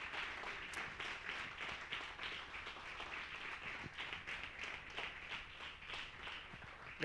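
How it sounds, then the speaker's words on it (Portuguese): Church congregation applauding at a celebration service, steady continuous clapping from many hands filling the room for several seconds, with no clear talk over it. "Para o Senhor Jesus, aplauda mais forte."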